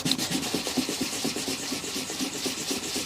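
A small 250 grit sanding block rubbed by hand over dried filler on cracked caravan plastic, giving a close, steady rasping scrape in quick regular back-and-forth strokes.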